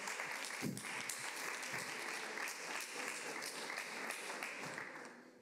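An audience at a talk on Covid-era misinformation applauds an interpreter with steady, dense clapping throughout that is somewhat distant and fades toward the end.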